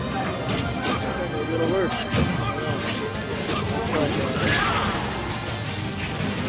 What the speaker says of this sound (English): Look at charging that smash attack.